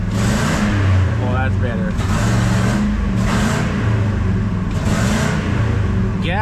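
Ford 5.4 pickup truck engine running steady and building revs under acceleration, loud and close inside the cab, with people talking over it.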